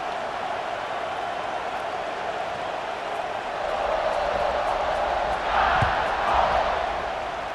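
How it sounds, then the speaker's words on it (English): Stadium crowd noise from EA Sports College Football 26, a steady broad roar that swells louder midway through as the crowd buzzes after a score, with no talk over it. "this crowd is buzzing after that last score"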